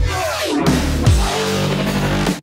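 Marching Flow, a wavetable synth patch from the Future Punk bank, with post-processing: a dense, continuous, loud tone that sweeps and shifts through several swells and rhythmic pulses before cutting off abruptly.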